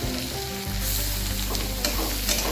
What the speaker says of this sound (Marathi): टोमॅटो सुद्धा मऊ होईपर्यंत परतून घ्यायचा